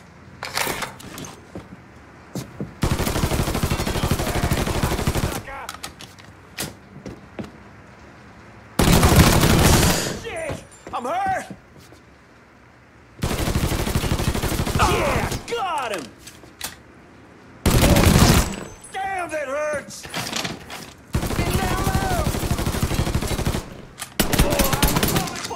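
Bursts of automatic gunfire and single shots ring out in a Mafia III shootout, loud blocks of firing coming in waves with pauses between, while voices talk over the gaps.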